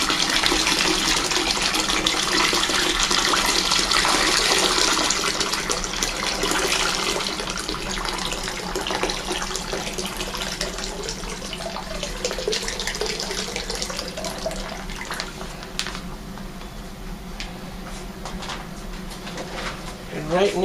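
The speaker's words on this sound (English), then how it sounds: "I'm going to slowly and gently pour this in." Warm water is poured slowly from a bag into a wine fermenter for a Merlot kit, a steady loud gushing that gradually eases and thins toward the end.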